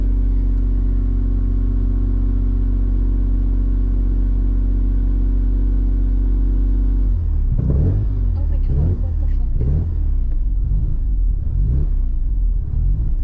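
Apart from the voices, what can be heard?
1987 Mazda FC RX-7 engine running roughly while driving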